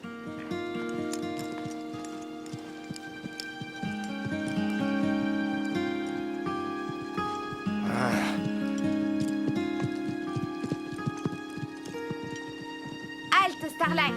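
Two horses, Starlight and Hugo, walk with clip-clopping hooves that stay mostly buried under steady music and spoken commands throughout.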